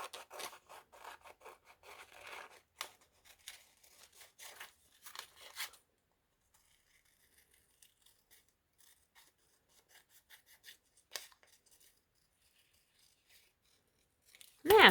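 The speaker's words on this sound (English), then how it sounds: "I'm just going to cut out this" Scissors cutting felt for a handmade Easter card: close, rapid snipping and rubbing for about six seconds, then sparse quiet snips in near silence, ending with a brief louder rustle.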